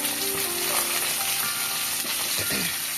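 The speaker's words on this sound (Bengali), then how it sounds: "এবার আমি সবজিগুলো ঢেলে দিলাম" Vegetables for pulao frying in hot oil with tempering spices, a dense continuous sizzle close by with a few scraping stirs and utensil knocks, no talking.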